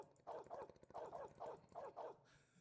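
The flying dog unit in the Age of Empires video game barks about six times in a quick, steady rhythm, close and clear.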